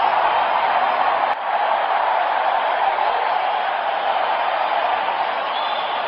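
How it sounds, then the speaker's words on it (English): Broad, steady roar of a virtual stadium crowd in the cricket video game Real Cricket 18, loud and continuous throughout with a brief dip early on, no talking over it. "Crowd going mad here."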